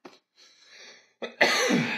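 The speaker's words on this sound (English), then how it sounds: "And cough." A single sharp cough with a brief throat sound before it, close and fairly loud, standing alone without speech.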